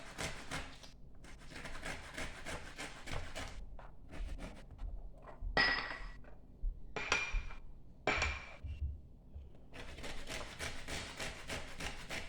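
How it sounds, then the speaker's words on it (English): A lemon is rubbed against a zester or grater in a kitchen while garlic pesto is made, giving quiet bursts of close scraping with short pauses and a few faint clinks. No voice is heard. "Just gonna go ahead and get the zest from the lemon"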